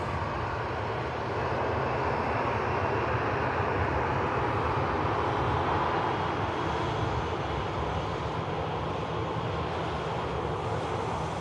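An inbound airliner approaching Manchester Airport, a steady broadband engine roar holding at even loudness for the whole stretch, with no voices over it.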